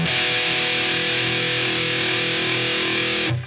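An electric guitar played through a Line 6 Helix set for Boss HM2-style Swedish chainsaw distortion, a single thick saturated chord ringing out with heavy sustain before being cut off abruptly near the end.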